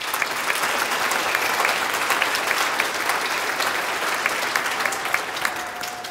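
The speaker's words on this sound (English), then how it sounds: "Please give them a round of applause." A crowd applauds steadily at an instrumental Christmas concert, a dense wash of clapping that holds at an even level throughout without pause.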